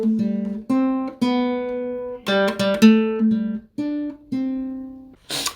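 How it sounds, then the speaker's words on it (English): Solo guitar plays the first two lines of the Happy Birthday melody, clean single notes picked close and clear at a relaxed pace, with a quick cluster of notes midway and a short strum at the end. "the first 2 lines of the melody sound like this"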